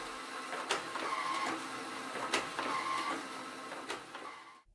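A Formax FD 1202 folder runs continuously while processing printed forms, giving a steady close mechanical whir broken by three sharp periodic clacks, then stopping abruptly at the end.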